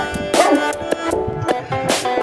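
A dog barks close and loud in a short outdoor burst, several sharp barks and yips in quick succession with brief whimpering between them.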